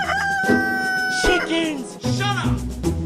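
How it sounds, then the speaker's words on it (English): Roosters crow loudly and close by in repeated long, wavering calls, overlapping one another with clucking between them, across about three seconds. "Chickens! Shut up!"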